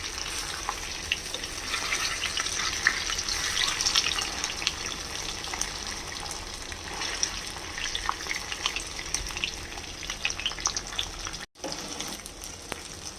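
Cut soya chaap fries in a pan, a loud crackling sizzle with scattered pops and stirring scrapes that eases slightly, briefly cuts out near the end and then resumes.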